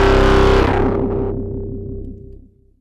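A screaming roar bass patch in the Vital synth, rich in sawtooth harmonics, hits loud and distorted, then decays over about two seconds into a wobbling, pulsing low tail.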